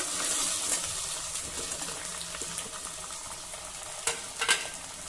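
Chopped onion, potato and green beans sautéing and being stirred in a pan, with a steady soft sizzle and a few scraping stir strokes, a slightly louder clatter near the end, no talking.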